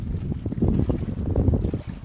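Strong wind batters the microphone on a small fishing boat at sea, a loud close rumbling buffet with gusty surges and no speech.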